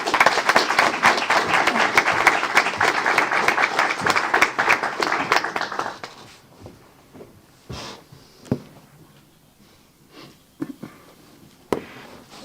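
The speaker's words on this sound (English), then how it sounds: "Let's give them a round of applause." A round of applause at a city council meeting, dense clapping for about six seconds that then stops abruptly, leaving a quiet room with scattered bumps and small noises.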